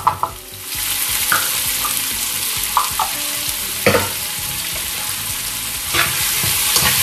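Chopped onion sautés in a hot pan, giving a constant bright sizzle with scattered clicks and scrapes of stirring, close and alone.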